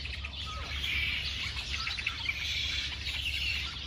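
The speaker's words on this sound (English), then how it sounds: "Listen to the birds," Small birds chirp and tweet repeatedly in the open air on a walk, bright calls scattered over a quiet rumbling background, fairly faint and with no talking.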